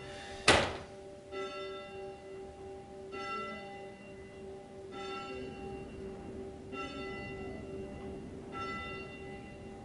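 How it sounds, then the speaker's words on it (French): A church bell strikes ten o'clock, slow evenly spaced ringing strokes sounding at a distance with a long decay, after one sharp nearby thunk at the start. "il y a la cloche. En plus il est 10 heures, ça va sonner 10 fois"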